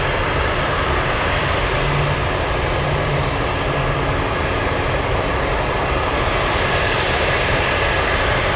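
A FedEx heavy jet lands at Anchorage, a loud, steady roar of engines that fills the scene without a break.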